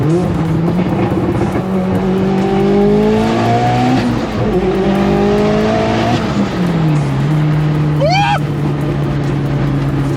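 A Mitsubishi Evo with a new exhaust pulls hard in third gear, its engine note climbing loud and close in rising sweeps through the pull, with a brief high squeal near the end.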